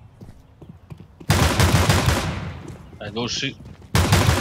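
Rapid bursts of gunfire in a video game shooter, loud and dense, with a short break before fire resumes. A voice speaks briefly between the bursts.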